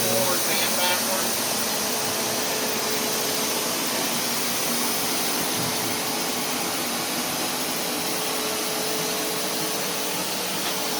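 A small Hoover carpet cleaner runs continuously with a loud, steady whine and airy roar, washing foam into a rug at close range.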